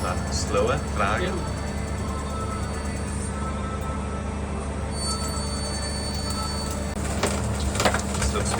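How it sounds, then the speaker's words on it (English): A Mazak SQT CNC turning centre, rarely used and not clean, runs its spindle positioning, making a noisy, continuous mechanical hum with scattered clicks and rattles while people talk over it. "Still spindle positioning. Noisy, they don't use it often, not clean."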